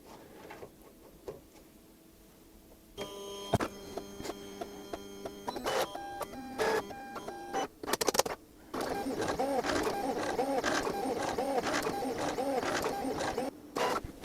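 A Silhouette Cameo 5 cutting machine runs nearby with tonal motor whirs and clicks, first in stop-start movements and then in a long steady buzzing stretch.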